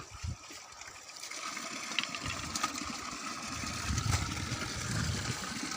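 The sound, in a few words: water running at a tap while washing hands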